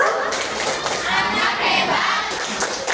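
A group of children and a teacher in a classroom clap along in a chant, a dense, steady burst of hand claps and raised voices filling the room throughout.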